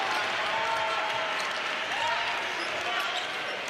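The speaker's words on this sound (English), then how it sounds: "Crowd trying to get the Tigers back into it." Basketball arena crowd at a Missouri Tigers NCAA game against Emporia State, a steady loud roar and cheering that holds throughout, with a faint whistle-like tone and distant voices mixed in.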